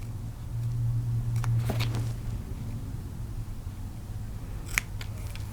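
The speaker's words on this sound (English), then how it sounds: "And I'll do the rest with my scissors." Scissors snipping through small paper pads for a junk journal folio, a few close crisp cuts early on and again near the end over a steady low hum, with no talking.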